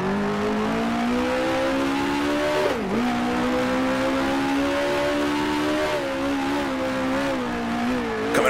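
Open-wheel race car engine in the Grand Prix Legends game at 1966 Warwick Farm, a loud sustained rasp whose pitch dips sharply on a downshift, then climbs and wavers through the corner.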